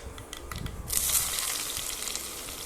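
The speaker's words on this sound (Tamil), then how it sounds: "கடுகு உளுந்தம்பருப்பு சேர்த்துக்கலாம் கொஞ்சமாக வெங்காயம் கட் பண்ணி எடுத்து வச்சுருக்கிறேன் நம்ம ஒன்றா சேர்த்துக்கலாம்" Mustard seeds, urad dal and chopped onion frying in hot oil for a tempering for goat head curry: a soft sputtering at first, then a loud steady sizzle that swells as the ingredients hit the oil.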